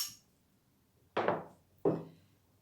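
During furniture restoration, a hammer strikes a fine-tipped nail punch set on a nail head in wood. Two sharp, close knocks come about a second apart, each ringing briefly before fading in a quiet room.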